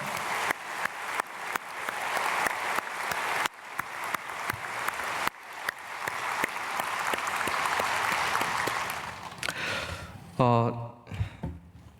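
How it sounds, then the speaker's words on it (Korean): A church congregation at a dawn prayer service breaks into sustained applause, dense and even across the room, with a brief break in the middle, then tapers off as a voice begins near the end. "우리 박수로 축복하겠습니다"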